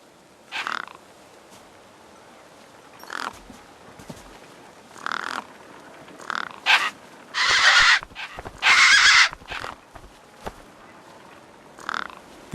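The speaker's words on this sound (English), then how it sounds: "The gang birds were eyeing up the corpse hungrily." Gang birds cawing over a corpse in the video game Beyond a Steel Sky, a series of harsh, separate croaking caws spaced a second or two apart, two longer rasping calls in the middle, against a quiet background.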